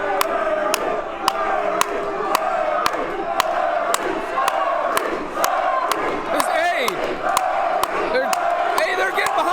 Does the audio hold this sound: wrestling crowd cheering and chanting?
yes